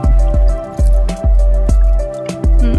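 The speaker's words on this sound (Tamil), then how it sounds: "கொஞ்சமா கொஞ்சமா ஊத்துங்க." Water is poured slowly onto a newly planted flower plant, giving a series of close, wet drips and splats in a steady rhythm of about six separate pours.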